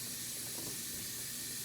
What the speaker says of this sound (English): now I'm just going to rinse off both the face mask and the lip